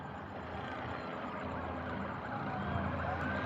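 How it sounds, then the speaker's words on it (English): Several emergency sirens wail together in the distance over a steady rumble of traffic during a Cuban protest in Miami, with no break in the sound. "You hear all those sirens now?"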